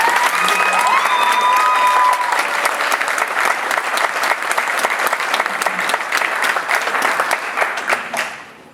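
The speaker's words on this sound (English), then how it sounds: "How about a round of applause for all the talent?" A theatre gala audience breaks into loud, sustained applause with some cheering, dense clapping from a large crowd that tapers off at the end.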